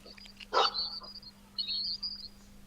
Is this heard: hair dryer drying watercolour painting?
no